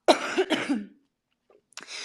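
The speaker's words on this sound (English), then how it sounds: "Sorry, pardon me, I'm about to cough." Two sharp coughs in quick succession, close and loud, followed by a short silence and a faint breathy sound.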